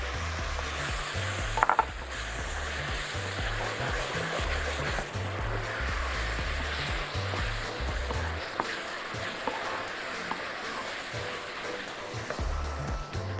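Small tomatoes and tomato juice sizzle in a hot pan while eggplant fatteh with meat is cooked, giving a steady close-up frying hiss with occasional stirring clinks and scrapes throughout.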